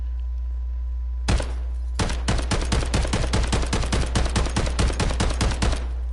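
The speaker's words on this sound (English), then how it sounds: "This is a great place that I like to shoot to see if I can shoot straight." Rapid bursts of gunfire from a shooting range in a PS4 video game, one shot, a pause, then a long dense run of sharp, loud, evenly spaced shots with a steady low hum underneath.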